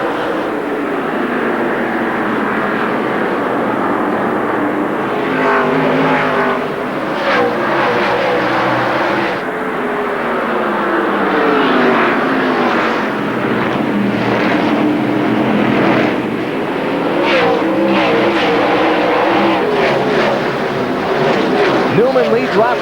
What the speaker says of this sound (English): Green flag racing at Martinsville, final short track event of the year.